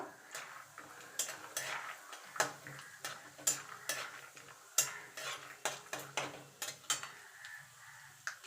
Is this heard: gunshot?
no